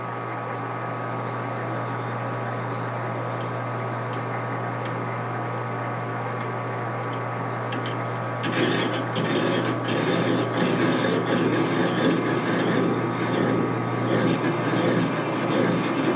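A machine running in a workshop with a freshly sharpened cut-off tool fitted, a steady hum with a constant tone, growing noticeably louder and rougher about halfway through.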